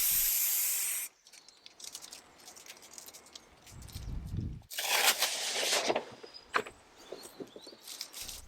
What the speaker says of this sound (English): I used spray contact adhesive to apply veneer to all the pieces